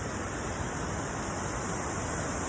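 Oxley Falls waterfall pouring in a mountain setting, a steady broadband roar of falling water that holds even and continuous throughout without any voices.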